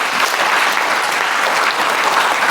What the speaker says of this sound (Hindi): अगर सहमत है तो दोनों हाथ ऊपर करके ताली बजाएं।